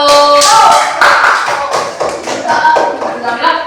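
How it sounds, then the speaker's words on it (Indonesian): Applause from a group, a dense patter of hand clapping that swells and then thins, with voices mixed in underneath. "tepuk tangan buat kelompok 1"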